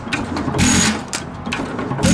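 Antique engine from 1916 running in a slow, uneven rhythm of loud puffing bursts and mechanical clatter, heard up close.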